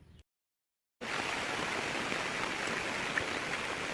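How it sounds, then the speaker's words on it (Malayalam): Heavy rain pours steadily outdoors in Kerala at a family temple, a dense, even hiss of falling water that starts abruptly after a brief silence and continues without pause. "മഴ നല്ല മഴയുണ്ടായിരുന്നു."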